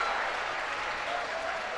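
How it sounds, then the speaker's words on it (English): Baseball crowd at an Altoona Curve versus Reading Fightin Phils game cheering and clapping for a fan's catch of a foul ball, a steady wash of applause and crowd noise throughout, fairly loud and continuous. "Gets the cheers of support from the crowd"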